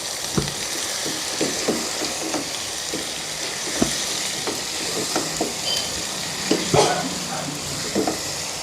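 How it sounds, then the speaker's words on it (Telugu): Rayalaseema-style chicken curry with chili powder, salt and turmeric frying in oil, a steady close sizzle broken by repeated scraping strokes of the spoon as the pan is stirred. "కలిపి పెట్టేసుకుందాం. కొద్దిసేపు ఇట్లాగే ఆయిల్లో మగ్గించి పెడదాం"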